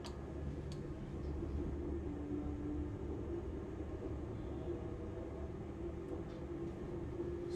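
A train accelerating out of Crewe toward Holyhead, passing the electric traction depot at about 50 mph, gives a steady, loud low rumble of wheels and running gear throughout, with faint higher clicks overhead.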